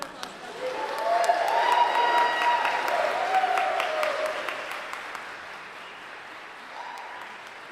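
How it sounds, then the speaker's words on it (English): After a tuba recital at a brass institute, the audience applauds with moderate, fairly distant clapping mixed with a few voices and cheers, swelling briefly and then fading to a quiet room. "Let's give a round of applause."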